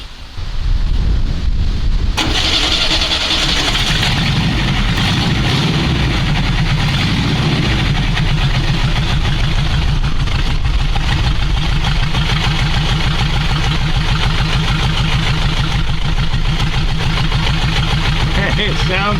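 A VW engine on a 1984 Brazilian-made Amazonas sidecar motorcycle cranks briefly, catches, and settles into a steady, loud, close idle that runs to the end without speech.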